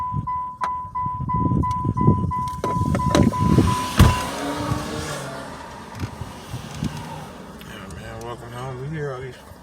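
Cars on a residential street pass by fairly close, their engine and tyre noise rising and fading over several seconds, with a brief tone early on and speech-like voices around the traffic.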